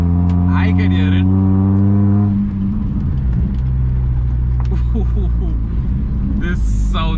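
Old Hyundai sedan with aftermarket headers and exhaust, its loud low drone holding steady and then dropping into a rougher, burbling rumble close by, with people talking over it in bursts.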